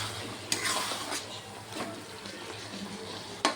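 Potatoes, tomato, turmeric and spices are sautéed together in a pan with a soft, steady sizzle. Spoon scrapes and stirring clicks sound close by, and two sharper knocks stand out near the start and end.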